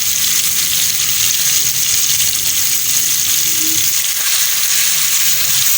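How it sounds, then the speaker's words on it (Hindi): Ginger garlic paste sizzling loudly in hot ghee, a steady dense hiss of frying close up with no voices. "हम इसमें अदरक लहसुन का पेस्ट जो है वो डाल देंगे घी में, ताकि ये अच्छे से फ्राई हो जाए।"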